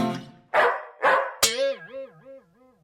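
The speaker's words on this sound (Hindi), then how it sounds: "अरे यह कुत्ता कहां से आ गया?" A hungry stray dog in an animated comic story barks three times in quick, loud, close bursts, then lets out a wavering, whining yelp that fades away.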